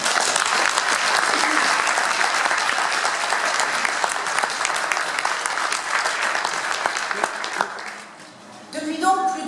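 Audience at a CGT union congress applauds steadily throughout, a dense loud wash of clapping that thins and fades near the end as a voice begins to speak.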